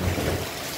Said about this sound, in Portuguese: Tá tendo uma chuva calma assim